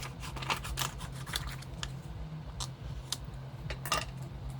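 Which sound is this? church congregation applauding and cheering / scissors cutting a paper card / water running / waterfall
scissors cutting a paper card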